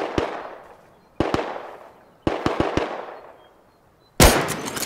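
Loud gunfire in the video game Rust: single shots and a quick cluster of cracks, each followed by a long booming echo that fades, ending in a dense burst of blasts.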